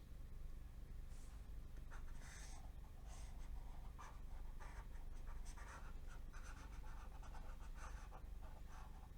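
A pencil eraser rubbing out marks on a paper page, heard as quiet repeated scrubbing strokes in short bursts across a low, steady background hum with no talk.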